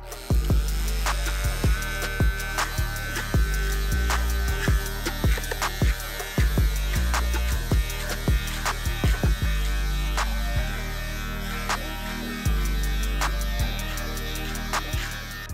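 An electric beard trimmer hums and buzzes close up while thinning a full beard, its motor tone shifting in steps and broken by short clicks and scraping contact sounds.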